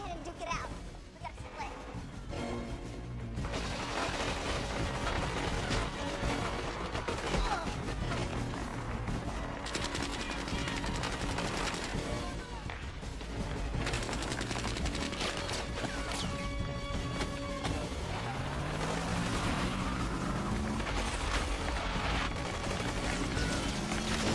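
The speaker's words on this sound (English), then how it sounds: "Oh, the sweet sound of gunfire." Machine gun fire in a TV action scene from Dark Angel, repeated bursts of rapid gunfire with crashes and shouting voices over a dense, loud soundtrack.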